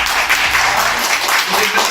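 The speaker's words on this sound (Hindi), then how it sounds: "तो एक बार जोरदार ताली आप सबको।" Students applaud together at a college gathering honoring a gold medalist from a convocation, a steady dense wash of clapping sustained for about two seconds without a break.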